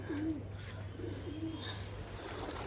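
Pigeons coo in low, soft rolling phrases during a rooftop pigeon-flying contest, a few repeated calls over a steady background hum, with no talking.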